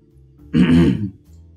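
A single short, gruff throat clearing, close and distinct, in an otherwise quiet moment.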